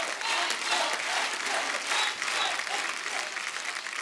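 A studio audience at a Hindi comedy talk show welcomes a singer with loud, sustained applause, dense clapping in swelling waves that carries on throughout.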